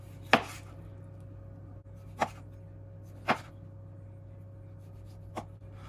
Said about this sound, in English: or you can just slice straight through, and it gives a nice kind of cross section